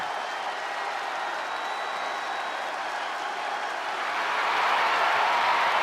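Arena crowd in WWE 2K25 cheers and applauds before a Raw tag team match, a steady broad roar of noise that swells louder toward the end, with no voices talking over it.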